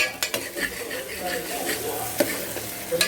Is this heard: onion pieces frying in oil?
yes